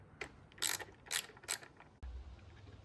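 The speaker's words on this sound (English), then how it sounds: "Let's start with this one visible screw, which is right here over the foot peg, and remove it" A hand ratchet loosening a fairing screw above the foot peg on a 2025 BMW S1000 RR motorcycle, three quick bursts of close, faint clicking, then a low hum.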